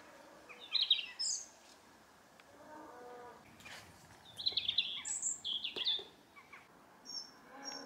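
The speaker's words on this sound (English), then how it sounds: "The birds are singing." Birds singing in an autumn garden, separate bright calls and warbles in short phrases with quiet pauses between them, moderately near, and a lower mooing call among them.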